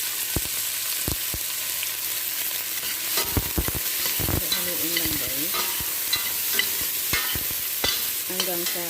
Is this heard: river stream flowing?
no